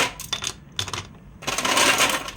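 Ice cubes dropped into a glass make several close clinking rattles in short bursts, then a louder, denser clatter near the end, with no voices.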